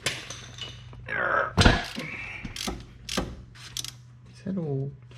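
Ratchet wrench clicking while loosening a 10 mm bolt on a Ford ED Falcon, short bursts of ratcheting and mechanical clacks close by, with a constant low hum and people talking in between.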